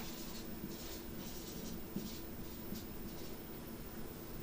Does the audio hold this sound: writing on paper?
yes